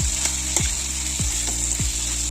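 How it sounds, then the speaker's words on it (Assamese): Duck meat frying with mixed spices in a pan, a soft continuous sizzle under several rhythmic scraping strokes of a spatula, close and fairly quiet with no talk. "অলপ টাইম ভাজিম মই এইখিনি মাংসখিনি কাৰণ হাঁহৰ মাংসটো অলপ ভাজিব লাগে"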